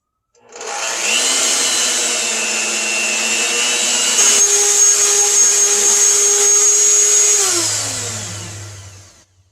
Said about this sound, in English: we're going to mix this for like 30 seconds